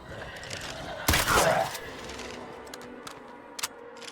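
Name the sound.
gunshots in video game State of Decay 2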